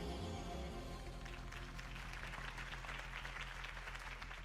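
Crowd applause after a political campaign speech in a Batman video game, a soft, distant patter of many hands that rises out of a sustained musical tone and carries on to the end.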